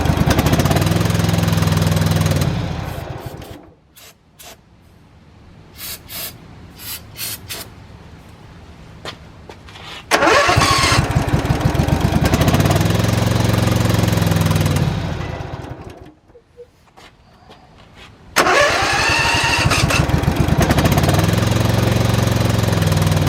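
A Briggs & Stratton Intek small engine runs rough, surging loud and steady, dropping off twice to a faint sputter before catching again at full roar.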